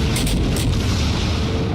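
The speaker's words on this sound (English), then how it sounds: "He's firing his guns at me." Naval gunfire in World of Warships as a Tier IV American cruiser Phoenix trades shots: a sustained, loud low rumble of booming cannon blasts, with a couple of brighter bursts early on and no speech.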